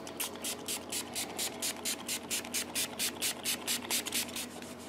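Rapid back-and-forth rubbing of a cloth carrying alcohol-based cleaner along the frets of a Les Paul copy guitar, about four strokes a second in an even rhythm, close and soft, with no talking.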